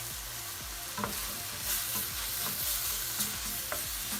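Cauliflower florets frying in a pan for a vegetable jalfrezi stir fry, a steady close sizzle broken by repeated scraping strokes of a spoon stirring the pan, with no talking.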